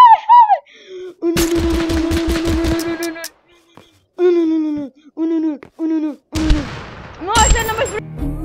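Gunfire in the cartoonish battle royale game Totally Accurate Battlegrounds: a loud burst of rapid repeated shots, then later sharp single shots and blasts, with excited talking and game voices in between.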